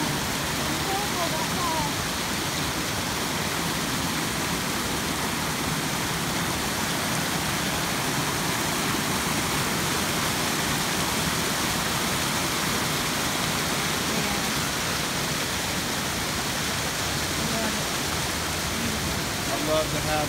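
Spring water gushes from under the ground in a steady, broadband rush, loud and unbroken like a small waterfall, heard close up throughout with no break in the flow.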